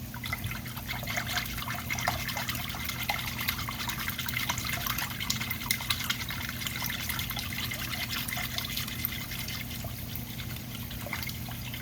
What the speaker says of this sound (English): Then we're going to go in with the hoisin sauce.